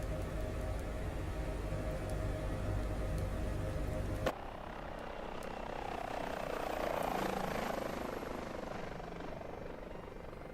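Helicopter in a flight simulator game, a steady rotor and engine drone that cuts abruptly partway through, followed by a softer, swelling whooshing wash of sound; no talking.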